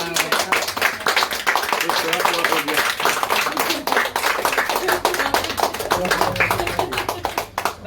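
An audience at a tea shop inauguration breaks into lively, close applause, with many sharp overlapping claps and some talking or cheering beneath them.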